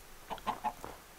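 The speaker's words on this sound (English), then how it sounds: "Chicken? You're in a bad place, chicken." A Minecraft chicken clucks three times in quick succession, faint and slightly distant, followed by a softer fourth note. There is no talking.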